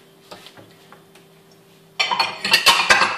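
Lid set onto a cooking pot of steamed noodles, first a few light metallic ticks and taps, then a louder jangling clatter of metal on metal over the last second and a half, close by.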